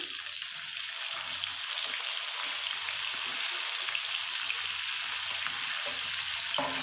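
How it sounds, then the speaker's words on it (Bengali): Carrot and capsicum fry in a pan with a steady, soft sizzle, close and fairly quiet, and nobody speaks over it. "দেখুন গাজরটা মোটামুটি একটু ফ্রাই হয়ে গেছে। এখন আমি ক্যাপসিকামগুলোকে দিয়ে দিলাম।"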